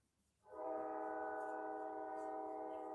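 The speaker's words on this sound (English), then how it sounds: "That's that motherfucking train." A train horn comes in fast and stays as one loud, sustained, steady blast for the rest of the moment, with no voices over it.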